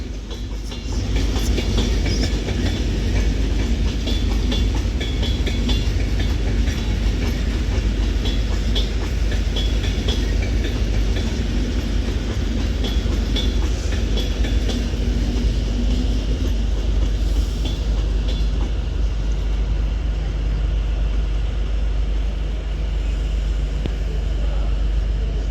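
A train running through Crewe station on the West Coast Main Line, a loud sustained rumble with rhythmic wheel clatter that holds steady and eases slightly toward the end.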